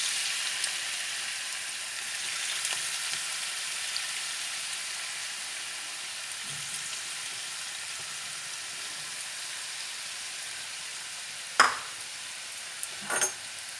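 Grated potatoes sizzle steadily in hot oil in a pan, a soft continuous crackle with a couple of sharper clinks of a utensil near the end.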